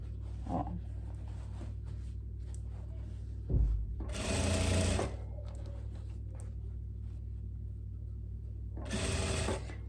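Sewing machine stitching a seam on tailored dress shorts, heard as two short loud whirring bursts near the middle and end of the clip, with quieter handling sounds in between.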